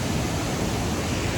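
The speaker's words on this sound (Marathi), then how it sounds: "धबधब्याचा जो काही आवाज आहे ना एकदम भारी असा" A waterfall roaring, dense steady rushing noise filling the short stretch, loud and close with no voices.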